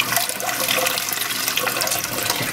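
A bidet toilet in a Kyoto hotel room flushes with a close, steady rush of water that runs for a few seconds without pause.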